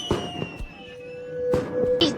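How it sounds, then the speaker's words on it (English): Fireworks burst in the night sky at a distance in a series of sharp booms and crackles, with a steady tonal hum running underneath. "Looking at the sky full of fireworks, Maodo burst into tears."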